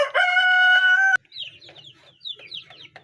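Black Australorp chickens in a coop: a loud, close rooster crow opens, then cuts to scattered clucks and soft squawks from several hens at moderate volume.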